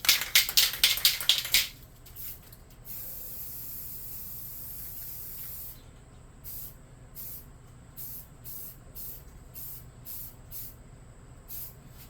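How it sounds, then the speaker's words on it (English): A black rattle-can primer is shaken with a fast clicking rattle, then sprayed onto a miniature in a steady, soft hiss that runs for several seconds, followed by a series of short, close spray bursts. "I'm going to hit him with a black rattle can, real light, to get a good bonding surface"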